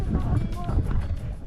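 Strong wind buffets the microphone with a low, steady roar, gusting throughout, at an outdoor park in Bohol, Philippines.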